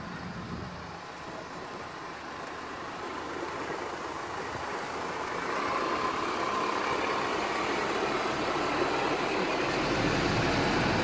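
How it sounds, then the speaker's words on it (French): A tractor moves enormous hay bales outdoors, its engine a steady, continuous rumble that builds slightly louder partway through, with no talking. "Il y a un tracteur exprès."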